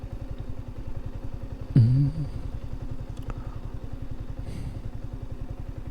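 A motorcycle engine chugging steadily at low speed close by on a hill road near Kodaikanal, with a brief thump and rattle partway through.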